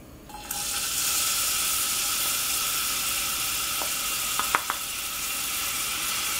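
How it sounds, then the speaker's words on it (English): Chopped onions hitting gently heated olive oil in a pan, a sudden onset of loud, steady broadband sizzling that holds evenly, with a few faint clicks near the end and no speech. "I'm going to add the chopped onions to that."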